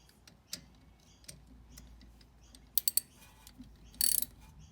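An E10 socket wrench ratchets on the rear brake caliper of a Mercedes ML350 W164, giving faint, quiet clicking with two short bursts of rapid ticks against a low background.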